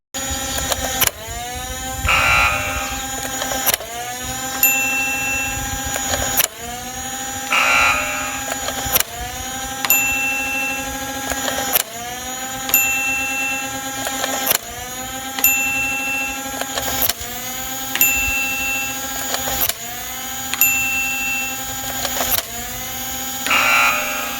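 A SnowCinda MP5K modded Nerf Stryfe flywheel blaster, select-fire, spinning up and firing foam darts outdoors. Its motor whine rises and falls in regular cycles, with a dart launched on each cycle, loud and close.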